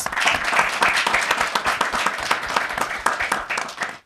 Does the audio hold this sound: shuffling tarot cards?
no